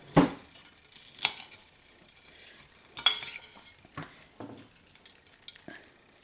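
A whole catfish is turned over in a frying pan, with a few sharp clanks and scrapes of a utensil against the metal over a faint, quiet sizzle of hot oil.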